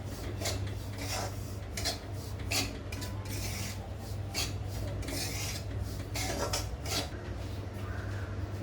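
Semolina dry-roasting in a pan over low heat, stirred with a utensil that scrapes and rasps in repeated strokes against the metal under a constant low hum, with nobody speaking.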